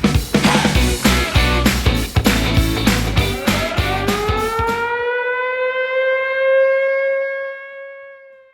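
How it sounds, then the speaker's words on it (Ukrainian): Civil defense air raid siren sounding during a football team's warm-up in Chernihiv, loud and close, with a rising-and-falling wail over rhythmic background pulses, then a long sustained steady tone that fades at the end. "Повітряна тривога перериває зараз розминку команди у Чернігові."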